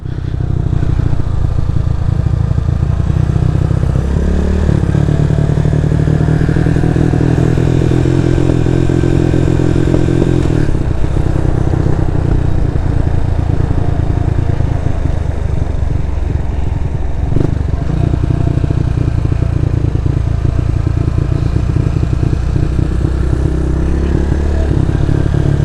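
A motorcycle engine drones loud and close, its pitch shifting as it climbs and winds along a zigzag mountain road in Sagada. Occasional rattles and clatter sit under the continuous motor sound.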